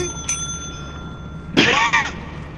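A bell rings at about 1.5 seconds inside the Lethal Company video game. It gives one bright, moderately loud ding with a short decay over a low background hum. A fainter tone sounds earlier.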